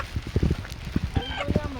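Chicken clucking in short bursts at close range, a weighty bird being handled on a long group walk, with people talking over and between the clucks.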